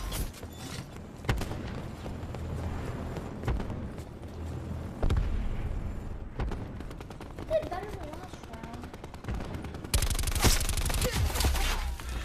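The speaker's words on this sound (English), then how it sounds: "I'm shooting everybody" Rapid automatic gunfire from a Black Ops multiplayer match, dense bursts of shots recurring throughout with louder volleys toward the end, mixed with mechanical clatter and occasional voices.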